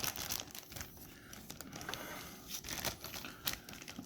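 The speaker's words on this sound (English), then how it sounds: "We'll take the plastic bag from around her hair." Thin plastic bag crinkles and rustles softly in close, quiet bursts as it is worked loose from a collectible Stardust figure's curved hair.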